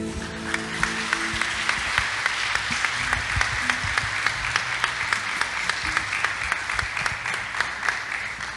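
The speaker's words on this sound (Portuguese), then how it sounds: "aplauda Jesus" A church congregation applauds steadily throughout a Sunday communion service, dense sustained clapping with a few sharper claps standing out, filling the room at an even level.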